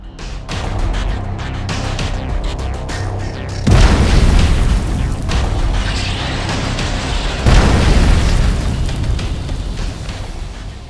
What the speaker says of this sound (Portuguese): Com uma forte explosão, o avião se transforma em uma pilha de cinzas